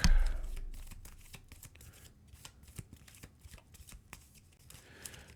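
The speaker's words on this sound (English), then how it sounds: "I gotta shuffle up the regular path deck." A deck of path cards from the Earthborne Rangers board game being shuffled up close, with a strong initial riffle followed by a quick series of crisp, irregular card flicks and slides, and no talking.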